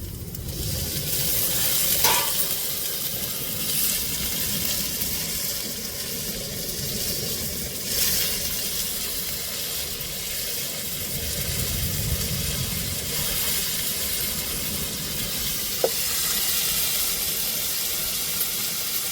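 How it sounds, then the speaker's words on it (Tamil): Tomatoes and chilies sauté in a pan, giving a steady, close sizzle of frying with occasional faint stirring clinks and scrapes throughout. "தக்காளியும் மிளகாயும் நல்லா வதங்கட்டும்"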